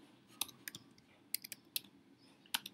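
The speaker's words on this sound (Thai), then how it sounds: "การพิมพ์ว่า virtual host" Typing on a computer keyboard, a handful of quiet, irregular key clicks spread out in short bursts against a soft background.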